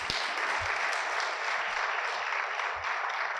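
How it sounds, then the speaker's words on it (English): Steady, dense clapping from an audience at a school district awards ceremony fills the room, loud and continuous throughout with no voices over it. "Let's give them a round of applause."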